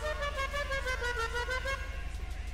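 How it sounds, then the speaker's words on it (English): A car horn honks in Grand Theft Auto, a steady sustained toot from a customized car, clear and fairly quiet with no talk over it. "Horn."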